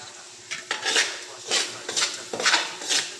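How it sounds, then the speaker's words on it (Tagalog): Onions are stirred in a pan while cooking igado, with rhythmic metallic scrapes and clatters of a utensil against the pan over a light sizzle, up close. "Tapos, isusunod na po ang sibuyas."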